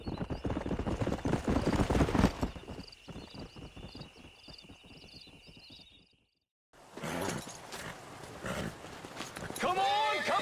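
Horse hooves clip-clop in the Western video game Red Dead Redemption, a steady rhythmic trot under someone talking, cut by a short quiet gap, then returning alongside more talk and a brief whinny-like sound at the end.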